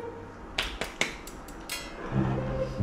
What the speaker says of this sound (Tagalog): Kailangan talaga may palakpak.